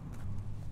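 Horse hooves clip-clopping in the video game Biomutant, a short, steady low thudding gait heard close and moderately loud, with no talk over it.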